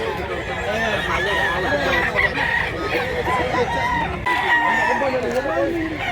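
Many chickens and roosters at a crowded chicken market in Mantalungon, Barili, Cebu cluck and crow all at once in a dense, continuous din, with people talking beneath the flock.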